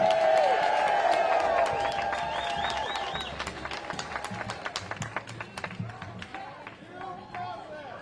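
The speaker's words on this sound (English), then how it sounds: "give yourselves a round of applause for standing up for democracy" Outdoor protest crowd outside a federal courthouse in Milwaukee applauding and cheering, with dense clapping and whoops that slowly thin out, voices mixed in throughout.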